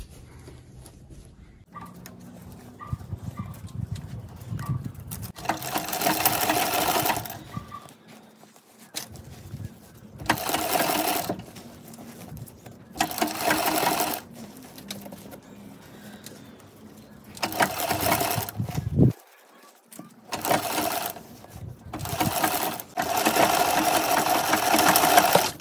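A sewing machine stitching pleats into the skirt of a small dog's dress, running in loud bursts of rapid mechanical whirring separated by pauses of near quiet, close by.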